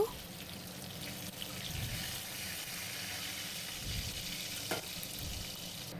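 Fish frying in a pan of oil gives a steady, soft crackling sizzle with a watery hiss that holds evenly throughout, with no voices.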